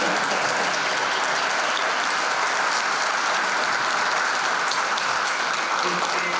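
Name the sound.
audience applause at festival panel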